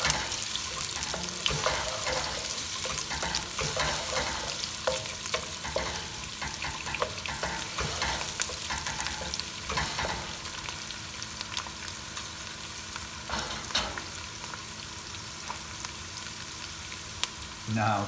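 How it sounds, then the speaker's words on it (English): Finely cut jalapeños sauté in a hot pan for an Indian-style dirty rice, a steady dense sizzle and frying crackle running throughout with occasional stirring scrapes, close and fairly loud, no talking. "Saute this for a little bit."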